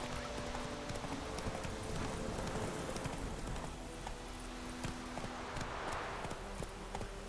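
Roach, the horse in The Witcher 3, gallops with steady, loud clip-clopping hoofbeats that run through the whole stretch, over a constant ambient wash with no talking.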